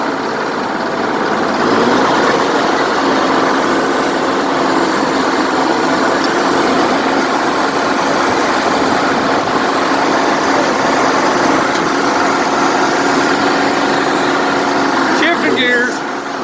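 An Allis-Chalmers HD7 crawler tractor runs after a cold start following winter, its diesel engine a loud, steady, droning clatter close by throughout, with a voice talking over it.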